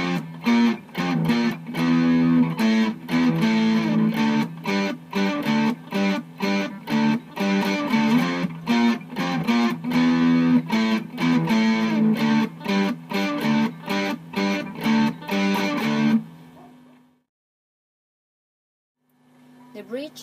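Chorus of a song on distorted electric guitar: steady, loud chugging power-chord strums for about sixteen seconds, then a sudden stop into near silence, with a faint chord returning at the very end.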